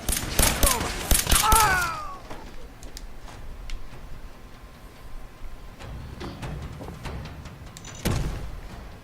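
A quick burst of gunfire in the video game Fallout 4, several rapid shots in the first two seconds, then quieter game ambience and another sharp shot near the end.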